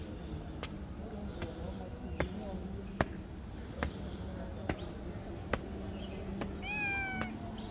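A cat meows once near the end, a rising plaintive cry over steady background noise, with regular sharp ticks spaced across the clip, in the Jewish Quarter of Jerusalem's Old City.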